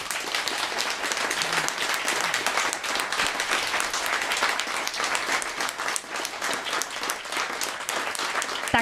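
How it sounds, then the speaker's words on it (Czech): A concert audience applauds a cimbalom folk band, a thick continuous roar of clapping lasting several seconds at even strength, with no voices above it. "Takže jim ještě zatleskejte."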